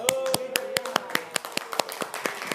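A classroom of students claps in a quick rhythmic run for a presenting group, sharp close hand claps in a fast patterned beat, with a voice talking faintly under the start.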